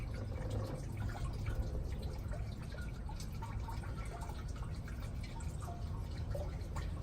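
Coolant drips and trickles steadily from a 1985 Chevrolet C10 engine, a continuous close splattering flow with no voices.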